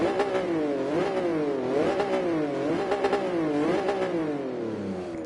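A Jaguar XJ13 racing car in GT Sport on the Nordschleife, its engine revving hard through repeated rising and falling sweeps as it shifts gears, loud and continuous with no talk over it.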